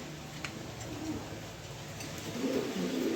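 A yellow Danish pigeon, a single female, coos softly in low, repeated murmurs over a steady background hum, with no talking.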